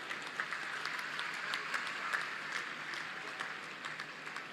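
Audience applause at an event honouring hockey players, a steady, dense wash of many hands clapping throughout, fairly even in level with slight swells and no talk over it.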